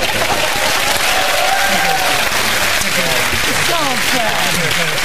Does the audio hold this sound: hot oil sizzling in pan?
no